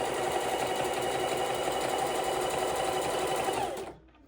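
A sewing machine stitches fabric straps and bodice with a fast, even mechanical whirr held close and loud for several seconds before stopping abruptly.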